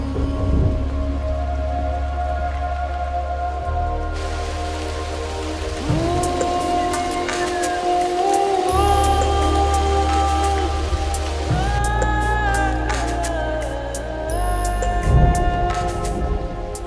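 Steady rain falling outdoors with a continuous broadband patter, while a melodic musical backdrop plays over it throughout, the rain fairly even in level and not heard alone.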